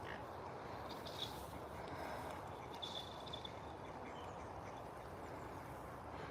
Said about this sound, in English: Even ducks are walking on the ice.